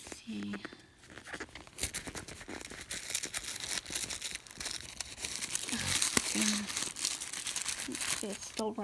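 Paper wrapping crinkles and tears as a Kate Spade wallet is unwrapped, in close, busy rustling bursts throughout, with a person talking quietly at times.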